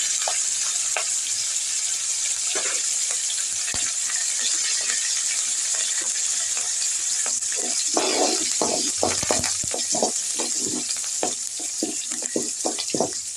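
Green chillies and curry leaves hit hot tempering oil after mustard seeds have popped, for citron rice, giving a steady close sizzle with bursts of louder spattering and scattered stirring clicks.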